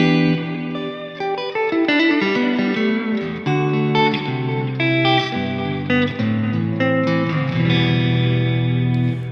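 Electric guitar run through delay and reverb, played for ambient tones with the effect mix backed off, sustained chords and notes ringing out loud and continuous with echoing repeats and a lingering tail, no talking.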